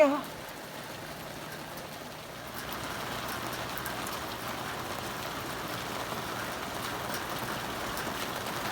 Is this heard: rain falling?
yes